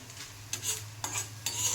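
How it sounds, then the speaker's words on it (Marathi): Whole spices dry-roasting in a kadhai make quiet scraping stir strokes, three or four short sweeps close by with a faint crackle beneath and no voices. "पहिला खडा मसाला भाजून घ्यायचा"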